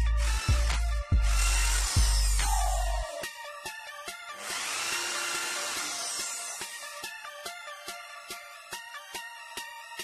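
A power drill with a countersink bit bores into a wooden tabletop, with a few bursts of whirring and then a series of sharp clicks and taps, close and fairly quiet with no talking.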